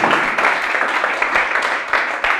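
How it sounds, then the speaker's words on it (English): A room full of people clapping, a dense patter of applause that continues steadily from start to finish. "Clap for him."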